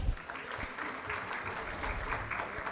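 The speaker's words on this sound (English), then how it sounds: "Let's have a huge round of applause, everyone." An audience at a legal conference applauds, giving a fairly faint, steady patter of many hands clapping with some murmured voices mixed in.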